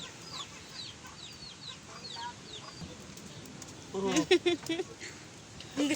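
Chickens cluck in short bursts, growing louder and closer toward the end, with faint chirps and insect noise in the background.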